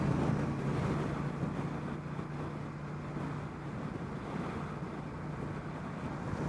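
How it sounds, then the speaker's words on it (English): Steady rushing wind noise while riding a motorcycle on a commute, a continuous low roar close to the microphone with no talking. "The wind's pretty loud up here."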